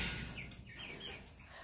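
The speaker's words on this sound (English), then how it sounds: "There's the rooster. Yep, that's what I hear every day in the morning." Chickens in a coop make brief, faint clucks and chirps over a steady hum of background noise at a moderate distance.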